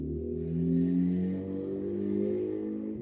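An old, loud car engine drones and revs nearby, its pitch rising and falling as it passes, with no talk over it.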